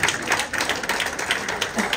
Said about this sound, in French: Applaudissements s'il vous plaît pour Flora Lochet